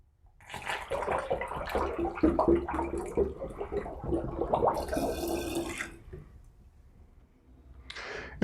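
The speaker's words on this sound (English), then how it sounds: "And let's start adding in some of the rest of our water." Water pours steadily into a brew vessel of lemon mead, a close splashing gush for several seconds that thins to faint trickles, then a brief final splash.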